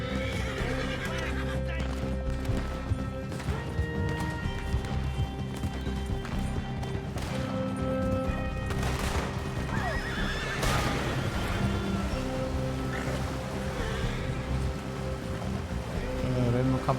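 A horse whinnies in the Red Dead Redemption video game, the neigh rising over galloping hoofbeats, game music and background voices throughout a busy open-world action scene.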